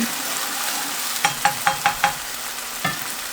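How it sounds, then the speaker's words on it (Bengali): A spice paste fries in a pan for a Bengali giant taro and hilsa curry, a steady close sizzle punctuated by a quick run of five rhythmic spatula scrapes and one more near the end. "মশলাটা ভালো করে ভেজে নিলাম।"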